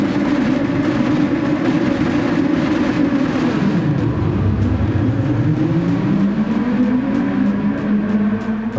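Red Bull X2014 Junior race cars in a racing video game pull away from the start at the Red Bull Ring Short circuit, engines droning loudly together, with pitches dipping and rising through gear changes.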